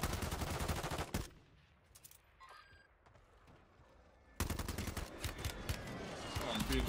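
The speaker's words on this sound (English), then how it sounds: "Oh, I'm being shot from behind?" Video game gunfire bursts loud and dense at the start, drop to quieter scattered shots and faint sounds, then heavy rapid firing returns and continues to the end.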